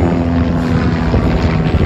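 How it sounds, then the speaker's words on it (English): A warbird propeller airplane takes off at the Warbirds Over Monroe airshow, a loud, close, steady engine and propeller roar that fills the whole stretch without letup. "Jeff Pitts is on the takeoff, and he is off and out of here back down south"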